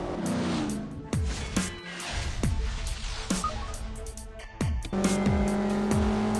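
Cars race in the CSR Racing mobile game, a 345-rated car taking an easy drag-race win: loud engine roar with sharp repeated gear-shift drops and revving under game music, with no talking.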